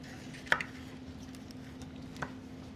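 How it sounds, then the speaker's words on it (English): A knife roughly chops vegetables on a board during a kitchen cooking demonstration, with two faint, sparse knocks heard at a distance over a quiet background hum. "So we're just kind of roughly chopping everything here."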